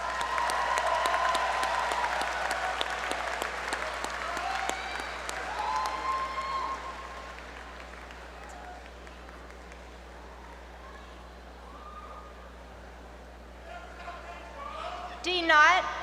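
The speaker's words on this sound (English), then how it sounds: "Let's give a round of applause to the Master of Planning graduates." An audience at a university commencement ceremony applauds graduates, a full round of clapping for several seconds that thins and fades, leaving a quieter room before a voice begins speaking near the end.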